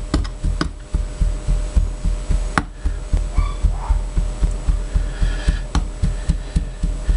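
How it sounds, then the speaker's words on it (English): Foundry sand being rammed into the drag half of a casting mold at a home foundry, repeated dull thumps in a steady rhythm, close and fairly loud over a low hum. "This is the drag half that we're ramming up at the moment."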